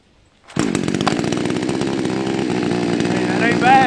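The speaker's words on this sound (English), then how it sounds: "And then God gave us chainsaws." A cheap $100 Chinese chainsaw, just started on its first pull, roars into a steady loud idle-to-running drone that fills the clip after a brief quiet start, its pitch rising slightly near the end.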